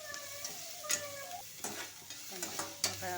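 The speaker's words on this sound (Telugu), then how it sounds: "ఒక 5 మినిట్స్ వేగాలి." Onions frying with freshly pounded ginger-garlic paste in a pan, a steady close sizzle broken by several sharp scrapes and clinks of a spoon stirring against the metal.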